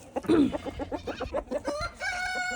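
A rooster crows nearby, a long rising call ending in a drawn-out held note, with some clucking and chatter before it.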